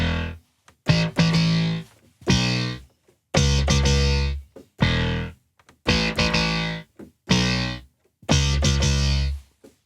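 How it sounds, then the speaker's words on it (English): Pro 800 synthesizer, a Prophet 600 clone, set to an extreme distorted patch, playing loud buzzy chords in repeated short bursts separated by brief silences, with no talking. "And this one is the Pro 800, it emulates, it clones the Prophet 600."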